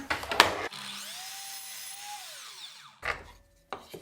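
A power tool whines as it cuts wooden boards for a small shower, with a rising then falling motor pitch through the cut. Short bursts of rough, close wood noise come before and after it, and nobody speaks.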